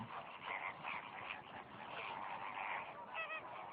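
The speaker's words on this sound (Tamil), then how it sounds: "இங்கு வரும் பறவைகளில் நம் கவனத்தை அதிகம் ஈர்ப்பது பூநாரைகள்தான்." A flock of flamingos calls at Kariyapattinam, a dense chorus of nasal, goose-like honks overlapping continuously at moderate volume with no voices.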